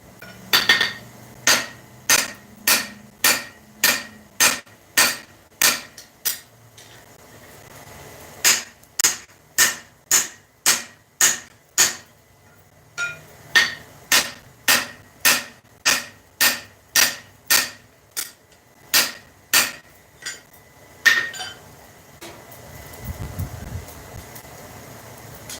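Hammer planishing the cheeks of a ball peen hammer being forged, sharp ringing metal-on-metal strikes in steady rapid runs of about a dozen blows, separated by brief pauses, close and loud with no talk.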